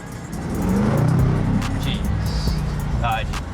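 A Range Rover Sport SVR engine swells into a deep rumbling rev from inside the cabin, then settles into a steady growl, with excited voices talking over it.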